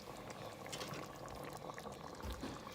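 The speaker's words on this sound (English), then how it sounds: "this is simmered down pretty good" A pot of jambalaya with sausage simmers gently, producing a soft, continuous bubbling and burbling, quiet and close with no speech over it.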